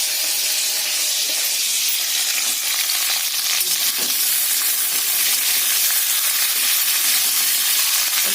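Broad beans and green beans fry together in a pan, giving a loud, steady, even sizzle that continues unbroken throughout with faint stirring clicks.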